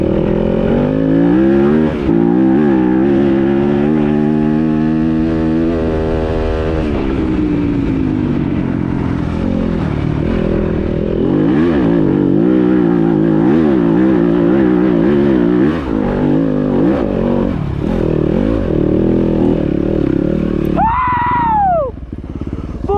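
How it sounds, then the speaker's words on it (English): A dirt bike engine roars continuously at full throttle as it climbs a hill on a trail, loud and close, rising and falling with gear changes. "Full throttle, third or fourth gear."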